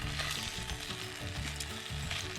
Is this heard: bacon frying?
yes